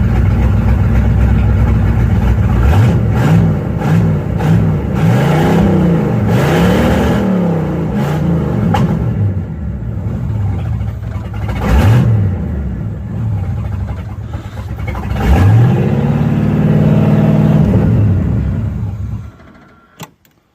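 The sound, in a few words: 1984 Camaro Z28 engine revving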